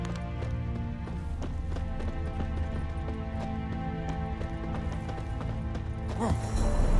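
Horse hooves clip-clop steadily on hard ground in the Witcher 3 video game, an even walking rhythm under a sustained musical bed, with a brighter swell near the end.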